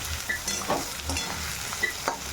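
Onions frying in mustard oil in a pan give a steady crackling sizzle, with occasional scrapes and clinks as they are stirred, close and moderately loud, with no talking.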